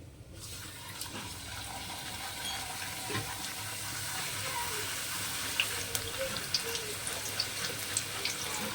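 Puri frying in heated oil gives a soft, steady sizzle and bubbling, fairly quiet and close, with a few faint clicks and small pops scattered through it.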